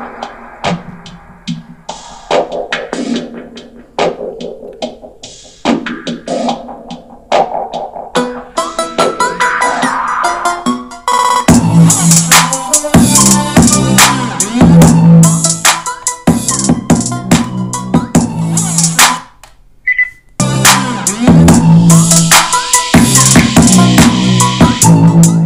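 Music streamed from a phone plays through a budget wooden Bluetooth speaker, full and loud with steady beats and sustained tones, briefly cutting out near the end.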